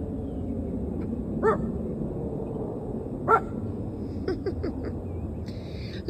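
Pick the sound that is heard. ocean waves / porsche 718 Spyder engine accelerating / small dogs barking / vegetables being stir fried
small dogs barking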